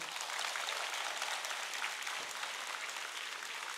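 Sustained audience applause fills a community hall in Tsim Sha Tsui, Hong Kong, at a Longevitology class volunteer event: dense, steady clapping from many hands at an even level throughout, with no voices on top.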